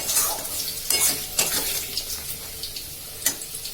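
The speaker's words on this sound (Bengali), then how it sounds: "এবার আমি মাংসগুলো দিয়ে দেবো দেখো তেল ছাড়ছে" Chicken pieces frying in oil in a pan give a soft sizzle beneath repeated sharp clinks and scrapes of a utensil against the metal, spaced irregularly and close.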